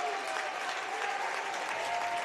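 A high school basketball crowd in a gym roars steadily and loudly after a missed free throw, a dense wash of cheering, clapping and voices that stays even throughout, with no single speaker standing out.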